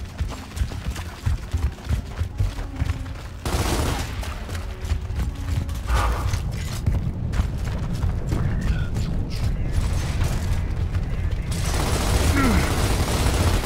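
Sustained gunfire from the Gears of War remake, with dense rattling bursts and mechanical clatter running continuously and loudly over game ambience, with voices partly mixed in.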